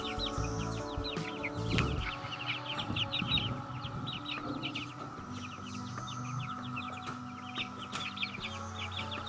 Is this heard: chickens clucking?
yes